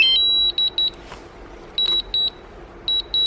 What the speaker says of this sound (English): once it's beeping like that, now you know it's returning to home